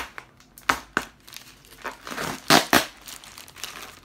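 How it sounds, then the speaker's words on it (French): Sticky tape on an AliExpress package crackles and crinkles in a series of short, close, uneven rips and rustles, with no talking over them. "Il y a un collant qui colle."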